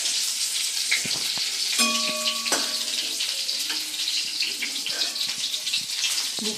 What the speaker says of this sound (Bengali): এখন চিকেন পকোড়া ভাজা হচ্ছে।